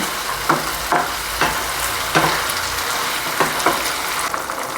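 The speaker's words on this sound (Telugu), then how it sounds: "ఇప్పుడు మనం వేయించుకున్న చికెన్ పీసెస్ వేసుకుందాం మొత్తం మిక్స్ చేసుకోండి" Fried chicken pieces are tossed into a sizzling chilli sauce in a pan, loud continuous frying hiss punctuated by regular scraping stirs roughly every half second, close up with no talk.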